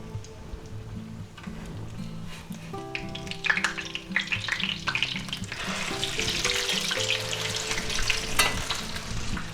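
A large tuna patty fries in a pan with a steady, close crackle and sizzle that grows busier and louder toward the end, with occasional tonal background sounds and no speech.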